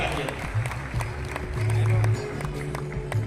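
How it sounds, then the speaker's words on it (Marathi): Applause greets a guest at a political party-joining event, with many people clapping in quick, scattered bursts beneath a speaking voice throughout the short stretch. "पुन्हा एकदा जोरदार टाळ्या तुम्हा सगळ्यांच्या माध्यमातून झाला पाहिजे"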